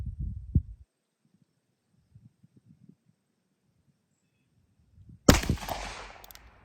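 A single loud, sharp shot from a Smith & Wesson Performance Center .357 Magnum revolver cracks near the end and rings out briefly, after a long stretch of near silence with only faint low rustles.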